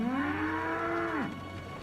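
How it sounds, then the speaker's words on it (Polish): Heck cattle, a breed bred back to resemble the extinct aurochs, gives a single long, loud moo that bends downward in pitch at its close, followed by a quiet lowing tail. "Są zwykłymi krowami."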